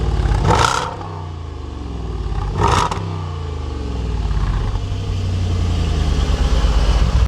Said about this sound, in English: You get awesome, awesome exhaust.